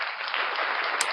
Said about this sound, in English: give Miss Tracy a big round of applause